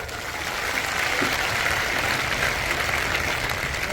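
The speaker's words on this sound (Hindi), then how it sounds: "इसी जोरदार ताली बजा के" A crowd at a political rally under a large tent in Bhadra claps loudly and continuously, a thick sustained roar of many hands that swells slightly and holds steady.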